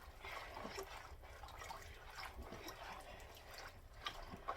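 Purple dye liquid is stirred around in a bowl, producing a faint, continuous sloshing and trickling with small splashy ripples, quiet and close without any talking.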